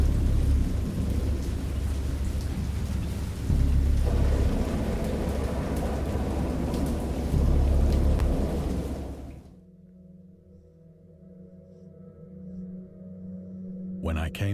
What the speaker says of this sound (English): I heard pearls of thunder and other tones which nature utters only